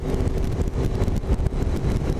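A car rolling along a road toward Lapeer, Michigan, heard from inside as a steady, loud engine and road rumble with no talk.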